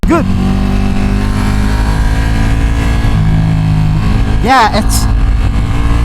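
A 2025 Ducati Panigale V2 sport bike with a full exhaust roars steadily at close range, with a quick rev that rises and falls near the end, while a rider speaks briefly over it.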